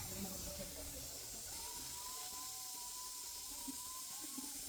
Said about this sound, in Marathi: कुकर लावलाय